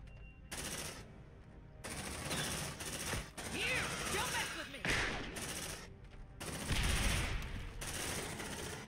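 Rapid automatic gunfire in the sci-fi tactical game Aliens Dark Descent, stuttering bursts rattling on and off with short gaps, mixed with game sound effects and radio-style voice chatter over the top.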